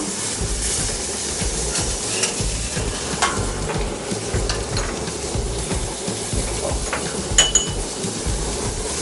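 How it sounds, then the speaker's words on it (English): Two ladles of tomato concasse sauce go into a hot cooking pan, with a steady close sizzle and a few sharp metallic clinks of the ladle against the pan throughout. "We add 2 ladle of the concasse sauce"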